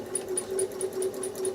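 A quilting sewing machine stitches a spiral in a slash star quilt, giving a steady, fast, close mechanical whir with a regular rhythmic pulse and a high whine running throughout, no voices.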